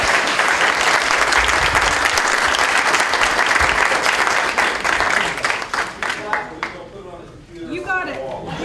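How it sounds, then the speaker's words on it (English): Sustained applause from a board of education meeting audience, loud and dense for about five seconds before thinning into scattered claps and a few voices. "Can we clap?"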